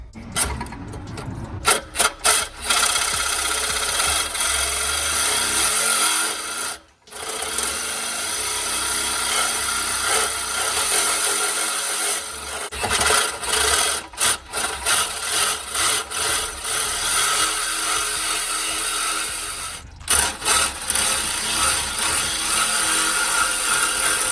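A power tool cuts through the exhaust pipe of a BMW 335i during an exhaust install, a loud continuous grinding rasp that runs nearly the whole time, with a few brief pauses.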